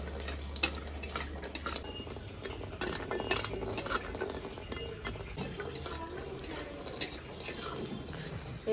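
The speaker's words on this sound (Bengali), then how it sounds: "তো এবার বড়ি কাটা ভেজে নিচ্ছি।" Lentil dumplings (bori) fry in white oil in a wok, with frequent clinks and scrapes of a metal spatula stirring over a soft, quiet sizzle.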